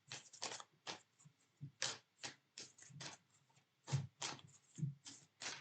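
Oracle cards from a Moon Witch deck are shuffled and handled at close range, a soft run of papery flicks and slides in short bursts with brief pauses, quiet and without talk.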